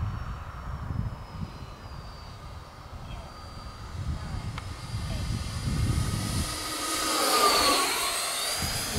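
FMS Dassault Rafale 64mm RC EDF jet with an 11-blade 4S fan sweeps past, its faint whine rising to a loud, high rushing whoosh before fading, while people talk nearby and wind rumbles underneath.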